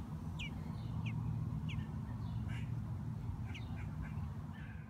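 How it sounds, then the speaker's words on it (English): A rescued baby robin gives faint, thin chirps, about six or seven short high calls spaced across a few seconds, over a low windy outdoor rumble. "now you can hear his little chirps."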